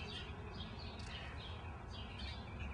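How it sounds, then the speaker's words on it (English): Small birds chirp faintly outdoors, a few short high tweets scattered over a quiet, low background hum, with no talk. "Hear the birds chirping?"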